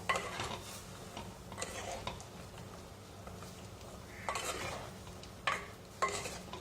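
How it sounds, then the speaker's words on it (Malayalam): A spoon scrapes and clinks in a pot of drumstick, prawn and jackfruit seed masala curry, faint intermittent stirring strokes with a soft sizzle beneath. "നന്നായിട്ട് മിക്സ് ചെയ്ത് കൊടുക്കുക."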